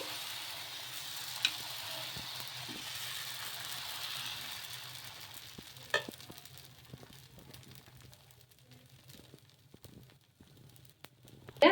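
Rava dosa batter sizzles steadily on a hot pan, with a soft continuous frying hiss and occasional light scrapes and clicks, moderately quiet with no talking.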